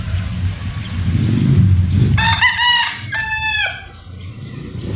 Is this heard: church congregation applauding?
no